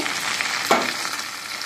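Taro, boiled potato and tomato sauté in oil with a dense, steady sizzle, broken once midway by a brief scrape of a spoon being stirred through the pan.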